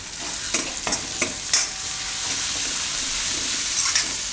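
Whole chili peppers sizzling loudly in a hot pan while a winter soup is cooked in a Gujarati kitchen, a continuous close hiss with a few stirring clicks and scrapes early on.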